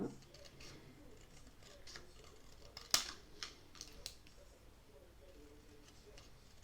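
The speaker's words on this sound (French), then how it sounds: "Je mets bien mon ciseau, je vois que c'est sur la ligne." Scissors snip through playing cards in a quiet room, a few sharp cuts standing out among soft rustling and handling noises, close and fairly faint.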